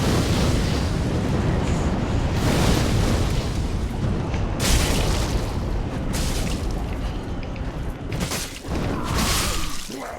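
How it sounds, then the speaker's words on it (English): Fireballs are hurled by a pyromancer in Dark Souls 3 and burst in a string of loud, booming explosions with crackling flame, several sharp impacts rising and fading one after another. "Let's see how much they like having fireballs thrown at them, just throw at them."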